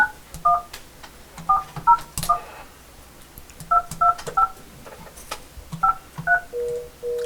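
Touch-tone telephone keys beep in short quick bursts, a few presses at a time with pauses between, ending on a steady tone.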